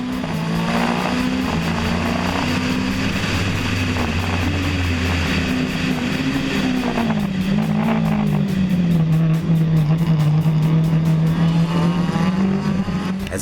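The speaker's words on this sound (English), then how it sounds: "That start again from Barbados' Doug Maloney's car" Race cars accelerating hard off the start at Wallerfield circuit in Trinidad, engines wailing and rising in pitch as they pull away, loud and continuous with overlapping revs.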